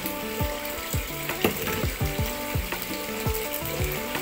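Sugar, egg and vanilla are beaten by hand without a mixer for steamed brownies, giving a quick, regular series of whisk strokes that tap and scrape against the bowl.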